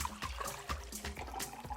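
Water pours into a glass in a continuous gurgling trickle, close and fairly quiet, with small splashes as the glass fills.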